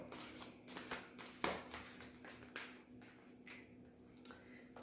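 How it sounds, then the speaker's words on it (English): A deck of tarot cards that is hard to shuffle is worked by hand at close range, giving a run of soft papery riffles and taps with a few sharper slaps, with no voices. "This is very hard to shuffle, so I'm doing the best that I can."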